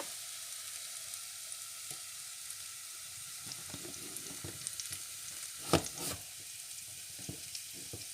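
Butter melts and sizzles in a pan as the start of a roux for gravy, a quiet, steady frying crackle with a few soft clinks, heard alone without talk.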